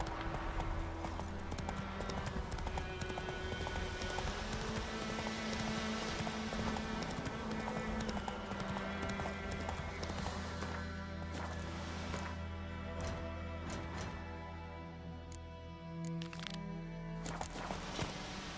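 Horse hooves clip-clopping in the Witcher 3 video game, a steady run of hoofbeats heard throughout under game music and ambience, with an occasional faint whinny.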